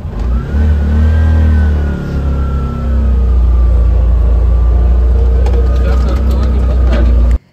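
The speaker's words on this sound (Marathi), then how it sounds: "आमच्या काकाची रिक्षा." An auto rickshaw engine drones loudly and steadily while driving on a rainy Konkan road, with a low, rumbling hum and a faint whine that rises as it runs, then cuts off abruptly at the end.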